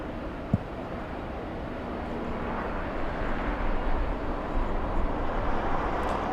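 Delta Boeing 767 airliner at LAX airport, a broad steady jet rumble at some distance that swells slightly toward the end, with wind-like noise and one brief click near the start.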